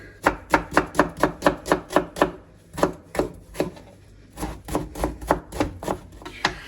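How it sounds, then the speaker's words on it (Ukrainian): A knife rapidly dices an onion on a cutting board in quick bursts of sharp taps, close by, with a brief pause midway before the chopping resumes. "Цибулю гарно нарізаємо кубиком"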